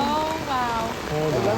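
Steady rain falling outdoors at a soccer game, a continuous broadband wash of patter filling the scene while voices talk over it.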